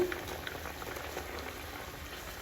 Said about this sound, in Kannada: ಸೊ ಚೆನ್ನಾಗಿ ಕುದಿದೆ ಆ್ಯಂಡ್ ಇದು ರೆಡಿ ಆಗಿದೆ.